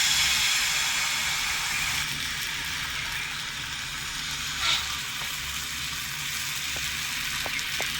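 Paratha batter made from a thin flour-and-water mix sizzles steadily in a frying pan, a close, even hiss that holds throughout with a few faint clinks.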